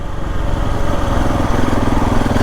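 A KTM 690 Enduro R motorcycle fitted with a Touratech windscreen rides at about 40 mph, its single-cylinder engine droning steadily beneath constant rushing wind noise, loud and close.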